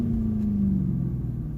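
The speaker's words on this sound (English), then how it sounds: "you get that long decel time when you rev up" Ford Mustang 4.6 V8 engine, a loud steady low rumble that slowly sinks in pitch as the revs fall back through a long, drawn-out deceleration.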